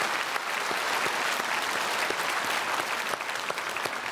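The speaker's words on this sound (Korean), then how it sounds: "박수하겠습니다." A church congregation at a Sunday worship service claps steadily and evenly, a dense, moderately loud wash of applause filling the hall without pause.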